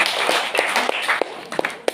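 A church congregation at a festival mass for Our Lady of Lourdes claps in thanks: a dense, steady patter of many hands, with a few sharper individual claps standing out near and loud.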